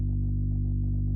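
An air case pop sampled and pitched down to its lowest register rings as a sustained deep bass tone, with faint soft puffs pulsing regularly above it.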